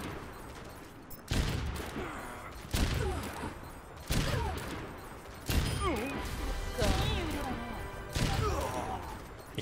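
Bursts of rapid gunfire crack out in repeated volleys in Overwatch, with impacts and electronic effects between them.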